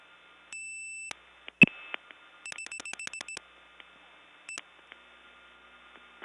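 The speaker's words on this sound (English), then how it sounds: "that was the same Gainesville vacant level recording" Gainesville, Georgia step tandem vacant level intercept after dialing 71: clean tone beeps, a sharp click, then a rapid series of short pulsed tones and one more brief beep over a quiet line hiss.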